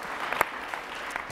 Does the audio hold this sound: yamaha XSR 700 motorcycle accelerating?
no